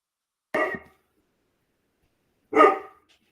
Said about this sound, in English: obviously my dog